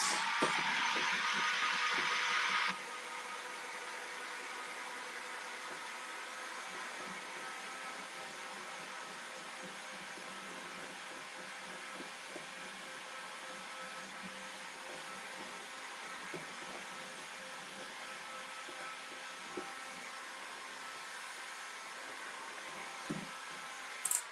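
A blower-type dryer roars steadily and loudly for about three seconds while drying paint on a grunge-style painted piece, then cuts off, leaving a quiet room hum with faint handling sounds.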